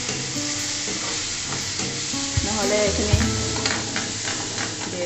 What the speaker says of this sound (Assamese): এতিয়া ইয়াক মই ভাজি থাকিম মই অকণমান গেছটো কমাই দিছোঁ